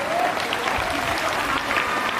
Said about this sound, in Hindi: एक बार फिर से जोरदार ताली बजाऊंगा इसके लिए